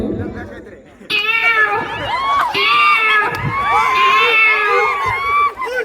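Several voices mimic cat meows in rising and falling wails, overlapping and loud, like a crowd of people playfully yowling together.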